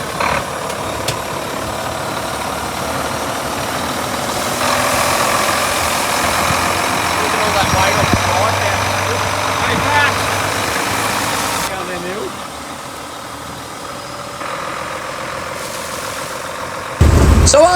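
The diesel engine of a salvaged spreader runs and idles with a rough, steady rumble and knocking, its tone shifting partway through, while people talk over it nearby.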